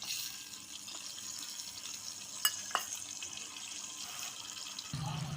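Fish roe curry cooking in a pan, a faint steady hiss of simmering with a couple of sharp clinks as it is stirred, followed by a soft low thump at the end.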